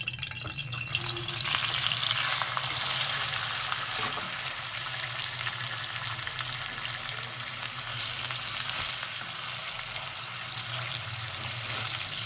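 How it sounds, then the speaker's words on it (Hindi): Boneless chicken, about 600 grams, fries in roughly 120 grams of oil with salt, giving a steady, moderately loud sizzle that holds without a break, with faint stirring and no talking. "3 मिनट हो गए नमक के साथ हमें चिकन फ्राई करते हुए।"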